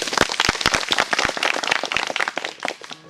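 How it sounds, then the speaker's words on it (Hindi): A group of students claps again, this time louder and more sustained, with dense, overlapping hand claps that carry on for nearly three seconds before thinning out. "तालियां अच्छे से नहीं बजी, तालियां फिर से"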